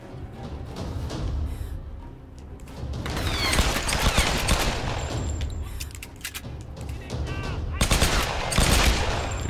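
Weapon fire in Tomb Raider, loud rapid bursts of shots rising and falling over about ten seconds with close, punchy impacts and occasional mechanical clicks, a voice briefly heard.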